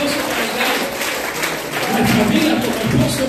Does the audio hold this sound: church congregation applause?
yes